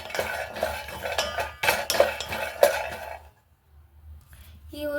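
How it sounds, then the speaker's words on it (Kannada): Metal utensil scraping and clinking against a pan while ingredients are stirred and roasted over a low flame, several clattering strokes in the first three seconds, then near quiet and a brief tonal sound at the end. "ನಾನು ಈಗ ರೋಸ್ಟ್ ಮಾಡ್ತೀನಿ"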